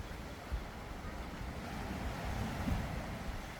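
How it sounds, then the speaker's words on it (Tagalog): Sea waves washing in at Virac, Catanduanes, a broad rumbling wash with gusty wind noise buffeting the microphone and a few low thumps of surf. "Yan dagat."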